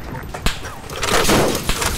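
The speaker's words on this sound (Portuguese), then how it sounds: "Inimigo atirando aí" Enemy gunfire in ARMA 3, a few sharp, loud shots cracking out at irregular intervals amid battle noise, with voices of players talking in the background.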